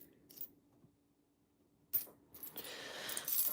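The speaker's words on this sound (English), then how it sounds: "Tired of these coins falling." Coins clinking and clattering as they drop onto a surface in a coin collection, a few sparse clinks early then a denser jangling cluster toward the end, close and fairly quiet.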